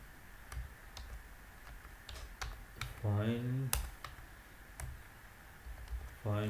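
Computer keyboard keys clicked while typing code, a few scattered keystrokes with a voice speaking over part of it.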